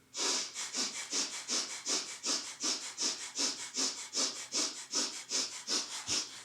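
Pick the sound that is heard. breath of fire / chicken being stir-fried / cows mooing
breath of fire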